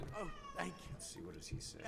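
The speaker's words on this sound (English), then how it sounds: "If you guys hear my cat in the background" A pet cat meows in the background, a couple of short nasal calls behind a man's speech during a relaxed gaming session at home.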